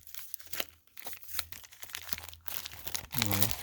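Crinkly plastic bag rustling and tearing in bursts while a NATO watch strap is unpacked from its box, close and fairly soft, with a short plucked sound near the end.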